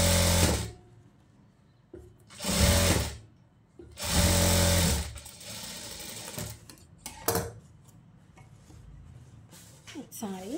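A sewing machine stitches a silk skirt blouse in short, loud bursts of rapid whirring, separated by pauses with soft handling sounds and some talk.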